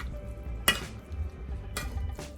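Spoon stirring crockpot Spanish rice in a pot, two short scraping strokes alone over a low background hum.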